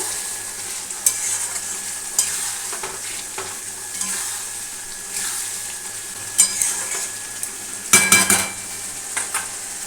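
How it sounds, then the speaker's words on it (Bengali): Spices sizzle and sauté in a hot pan for a Bengali fish curry, with steady frying hiss, scraping stirs and a few sharp utensil clinks against the pan, loud and close, no voices. "আমার কিন্তু মশলা দিয়ে কষানো হচ্ছে আর মাছ তো ভাজা হয়ে গেছে"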